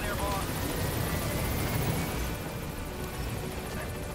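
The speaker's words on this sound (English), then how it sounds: "Let's get out of the chopper." A helicopter in the video game Metal Gear Solid V gives a steady, loud whirring rotor drone that eases off slightly toward the end. Someone talks over it.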